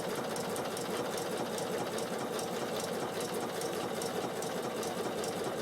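A Bernina sewing machine runs steadily as it stitches a buttonhole, a fast even whir with a rapid regular clatter of the needle, close and continuous throughout.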